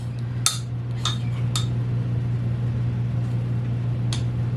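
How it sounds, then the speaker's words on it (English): Low steady hum of a running microwave oven melting butter, with a few sharp clinks and clicks near the start and once more later. "I'm going to stick it back in the microwave."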